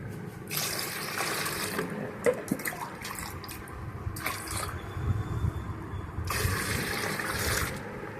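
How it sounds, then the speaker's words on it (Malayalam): Water is poured into a homemade floor cleaner mixture in three separate rushing bursts with quiet gaps between them, fairly soft and close, with no talking. "ബാക്കി വെള്ളം കൂടെ ഞാൻ ചേർക്കുകയാണ്."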